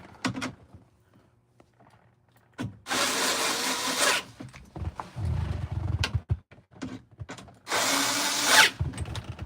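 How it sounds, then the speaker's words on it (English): Power tool driving bolts on a Ford F150, two loud close whirring bursts with clattering and handling noise between them, and no voices. "Let's tighten it up, folks."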